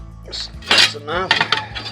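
A utensil stirs baked potato salad in a bowl, giving close, brief clinks and scraping knocks against the dish in a short, uneven flurry.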